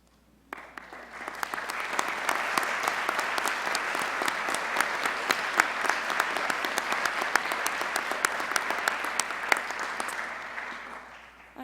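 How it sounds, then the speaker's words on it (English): Sustained applause from a crowd, steady clapping that fills the space for several seconds before tapering off. "she earned your applause"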